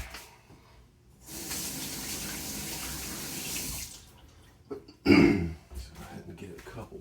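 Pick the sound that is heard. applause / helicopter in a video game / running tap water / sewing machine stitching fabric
running tap water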